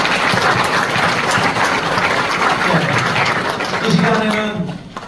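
A congregation at a church dedication and founding service breaks into loud sustained applause that carries on under a voice and fades toward the end.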